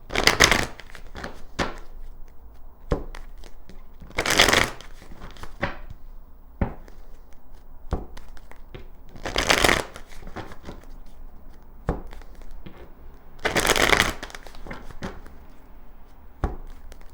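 Tarot cards being shuffled by hand, repeated crisp riffling bursts and soft taps of the deck recurring every few seconds, close and fairly quiet, with no speech.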